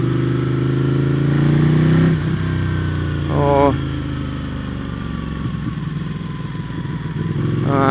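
A Ducati Panigale 899 or 1199S motorcycle engine rumbles loudly and close, rising and falling through revs as it rides, with someone talking over it.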